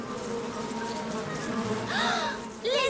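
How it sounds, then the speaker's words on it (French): Bees buzz with a continuous drone close by, and a couple of brief rising and falling tones break through near the end. "Oh, les abeilles!"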